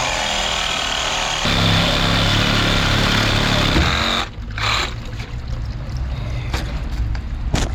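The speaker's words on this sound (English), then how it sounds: "So Jacob's going to make the important cut." A power saw cuts through 2-inch black iron pipe with a loud, continuous grinding whine that drops off abruptly partway through, leaving a rougher, lower rumble with scattered sharp clanks.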